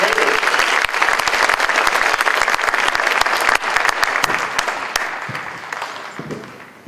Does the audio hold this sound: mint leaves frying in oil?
no